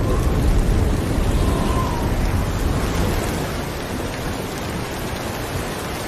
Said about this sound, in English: In the dry season, storms can roll in quickly, but they don't last long.